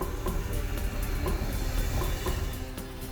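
A Glenbrook Vintage Railway heritage train in New Zealand pulls away from the platform on a Christmas journey, giving a steady, loud rumble with hissing and rail clatter throughout.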